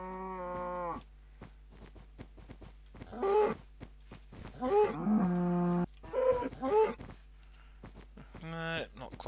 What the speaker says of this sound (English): There's one more cow up there.